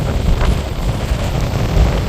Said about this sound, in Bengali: আস্তে বাতাসের পরিমাণ বাড়ছে বৃষ্টির পরিমাণ বাড়ছে আর জোয়ের পরিমাণ আরও তীব্র হচ্ছে